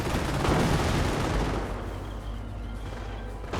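A quad anti-aircraft gun in Company of Heroes rattles out a dense, continuous stream of rapid fire, loud and steady at first, then thinning and fading under distant battle rumble.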